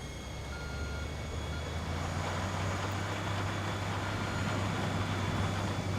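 Heavy dump truck and asphalt milling machine chewing up tarmac in the Construction Simulator 2 video game: a steady low engine drone with mechanical grinding, reversing beeps ringing above it throughout, loud and close with no talk.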